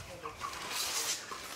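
Chickens in a giant industrial henhouse fill the air with a dense, continuous din of clucking and squawking from many birds at once.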